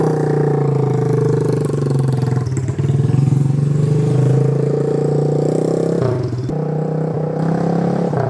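A Pitster Pro XTR250 dirt bike fitted with a hydraulic clutch runs loud and close, its engine note dropping briefly twice as gears change, with some mechanical clatter.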